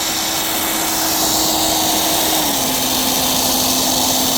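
An old, rare electric drill motor runs steadily on its own, a constant whine with a faint drop in pitch partway through, loud and close with broadband hum throughout.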